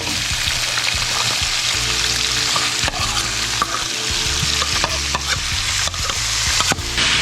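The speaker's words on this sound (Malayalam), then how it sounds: "2 ടേബിൾ സ്പൂൺ അളവിലുള്ള എണ്ണയിലേക്ക് സവാള ഇട്ട് കൊടുക്കാം." Sliced onions sauté in two tablespoons of hot oil for a quail biryani, sizzling steadily and loud up close, with repeated scrapes and clicks of a stirring utensil against the pan.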